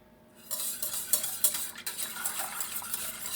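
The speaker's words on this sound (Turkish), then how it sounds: "Hepsini şöyle soğukken sütüm karıştırıyorum." A utensil scrapes and clinks steadily against a metal pot while stirring cold milk with egg yolk, a continuous stirring sound with small knocks, close up and without voices.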